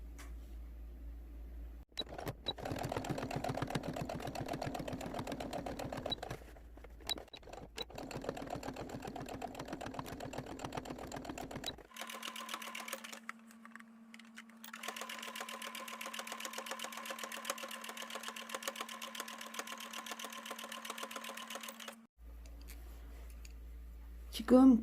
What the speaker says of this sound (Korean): 동그랗게 박음질 해줄 겁니다